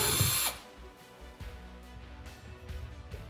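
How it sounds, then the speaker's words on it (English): A power drill bores out the plastic nozzle of a squirt gun, a loud high whir for about half a second that then drops away, followed by quieter low mechanical rumbling and faint handling noises. "you're going to want to carefully start to drill out the nozzle in the front of your gun"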